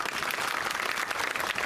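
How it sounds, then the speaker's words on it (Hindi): A crowd at a Lok Sabha 2024 election rally in Kachhowa, Shivpuri, applauds in a dense, steady burst of many hands clapping together for a brief moment. "ताली बजाओ इनके लिए।"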